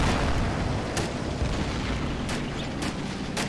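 Mortar rounds fire and burst in the war strategy game Men of War Assault Squad 2, a steady rumble of battle noise broken by several sharp, loud blasts spaced a second or so apart.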